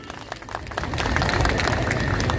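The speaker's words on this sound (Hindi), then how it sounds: "गोटे जोरदार ताली हो" Loud applause rises from a crowd at a temple stage during a Jagannath festival gathering, with dense clapping that swells and holds steady for a couple of seconds.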